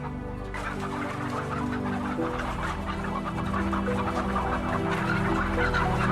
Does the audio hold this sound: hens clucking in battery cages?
yes